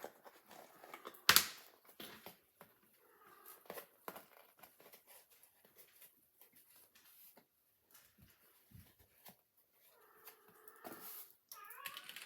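A house cat meows several times across a quiet room, soft drawn-out calls now and then among faint rustling and handling noises, with one sharp loud knock early on.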